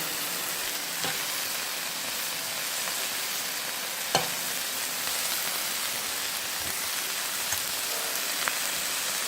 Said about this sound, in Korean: 삼겹살, 삼겹살 한번 구워볼게요.